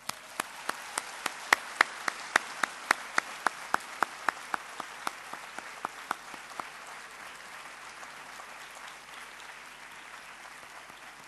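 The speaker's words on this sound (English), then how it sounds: "appreciate our parents and our lecturers by giving them a big round of applause" A graduation audience applauds at a 2008 ceremony: sharp, distinct claps ring out loudly at first, then thin out and fade into a softer, scattered patter toward the end.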